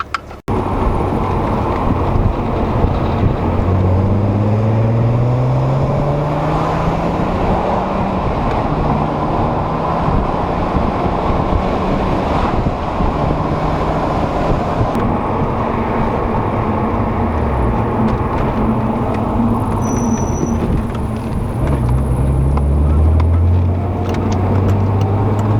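Close, loud interior drone of a Volkswagen Golf R32 on the move, a continuous engine and road roar with the engine pitch rising and falling through gear changes.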